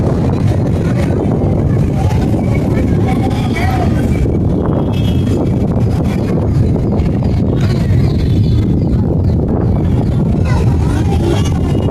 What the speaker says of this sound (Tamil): காற்று தள்ளுது.